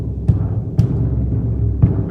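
Bass drum hit repeatedly in a reverberant room, three loud strikes at uneven spacing with a washy, boomy low resonance smearing between them, no voices.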